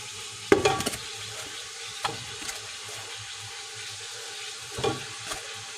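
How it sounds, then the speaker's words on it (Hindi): Beef nalli marrow bones fry in a pot with cloves and black pepper for nihari, giving a steady low sizzle broken by a few sharp clatters of stirring, with no talk. "मैं थोड़ा सा भूनता हूँ और फिर मसाले डालूँगा"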